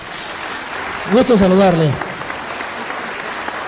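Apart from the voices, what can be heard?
audience applause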